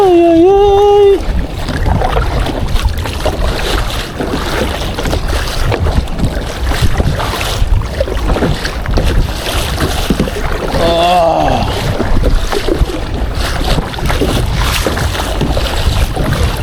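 Strong wind buffets an open-water kayak during a fishing trip, with a steady roaring rush of gusts and water noise throughout, and a couple of brief voices rising over it.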